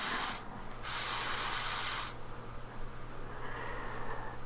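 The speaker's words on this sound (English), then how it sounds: "you get this from the elevator. Hesitation, slipping, and stalling." The small plastic elevator of a 1970 Hot Wheels Tune-Up Tower toy slips and stalls, giving faint rubbing and whirring with a soft motor hum, uneven and close.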